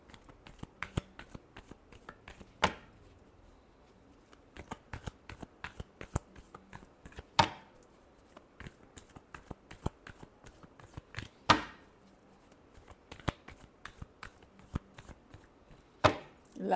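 Playing cards shuffled during a tarot reading, heard as a run of quick riffling clicks and snaps with a few sharper bursts, close and fairly quiet with no talk.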